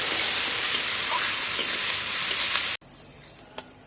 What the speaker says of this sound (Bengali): রসুনটা একটু ভাজা ভাজা করে নেবো পেঁয়াজের সাথে।